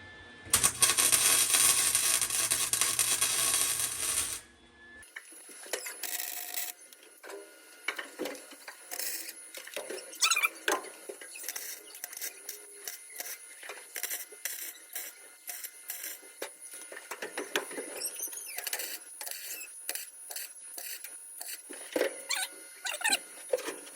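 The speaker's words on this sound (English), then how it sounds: "I'm gonna put a couple spot welds in" Spot welds go into a cab corner patch on a 1974 Ford F-250, with a loud buzzing weld burst for a few seconds, then scattered crackles and metallic clicks at a close, quieter level.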